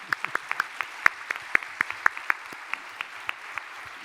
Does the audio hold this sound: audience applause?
yes